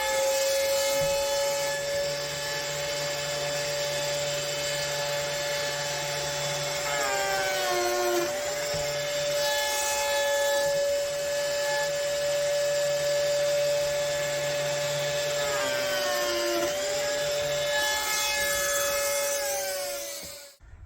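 A Lamello jointer cuts grooves for a Clamex connector in wood, running with a steady high whine and twice bogging as the blade plunges into the workpiece, loud and close with no talk.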